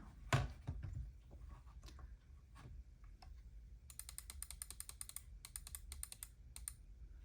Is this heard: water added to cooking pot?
no